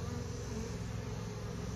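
Honeybees at a hive during a colony transfer to a Layens hive make a continuous, even buzzing drone, fairly faint and close, with no pauses.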